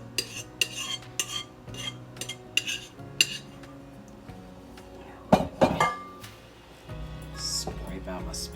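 A metal spoon mashes and scrapes ravioli casserole in a baking dish, giving repeated clinks and taps against the dish in an uneven rhythm. A clattering scrape comes near the end, and a voice talks over the sounds.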